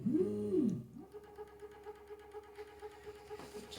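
Nail polish filling machine starting a fill cycle with an offset and Z-axis nozzle: a brief rising and falling motor whine, then a steady low mechanical hum with soft rhythmic pulses, close and moderately loud, no talking.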